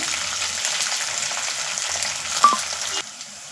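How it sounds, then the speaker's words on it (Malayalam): Green chillies sauté in hot oil with garlic and ginger in a pan while cooking a carrot pickle, giving a steady, close sizzle with a few light clinks near the end. "പച്ചമുളക് ഇട്ട് കൊടുക്കാം അതും ഒന്ന് വഴണ്ടി വരട്ടെ"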